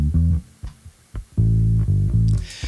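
A bass guitar line with medium-attack, medium-release compression plays alone in short plucked notes and then a sustained low note, the level more even while finger attacks still come through.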